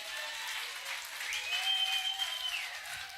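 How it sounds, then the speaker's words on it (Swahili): Congregation at a church crossover night service applauding together, a sustained dense wash of many hands clapping that swells slightly toward the middle and holds steady throughout. "Weka makofi, makofi, makofi ya juu."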